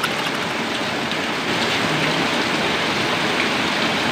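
Heavy rain pours down during a tricycle driver's rainy-day rounds, a loud, constant roaring wash of drops with no break and no talking.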